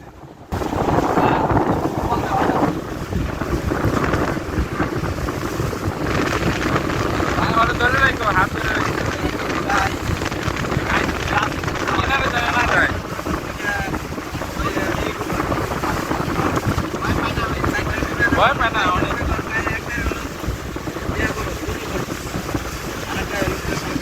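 A speed boat crossing the Padma River at dusk, with a loud, constant engine and wind roar buffeting the microphone throughout and voices faintly mixed in.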